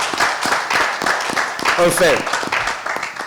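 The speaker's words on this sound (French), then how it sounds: "Vous pouvez applaudir." Audience claps at a fiftieth-anniversary event for a music group, steady applause running under an announcer's voice throughout.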